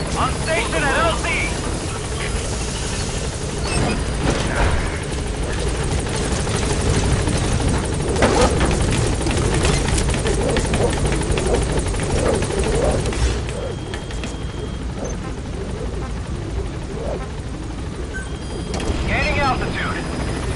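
The Pequod helicopter in Metal Gear Solid V: Phantom Pain approaches the landing zone, with a loud, steady rotor roar throughout and a pilot's voice talking over it.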